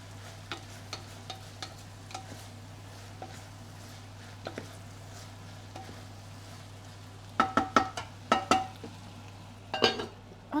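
Onions for French onion soup cook in a pot with a soft steady sizzle, while a utensil scrapes and clinks in a burst of stirring toward the end, all close and fairly quiet over a constant hum.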